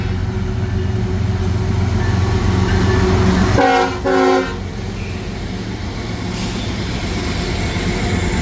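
A southbound freight train of grain loads passes trackside in Terre Haute, Indiana, with a steady rolling rumble throughout and a loud, multi-chime horn blast sounding briefly midway.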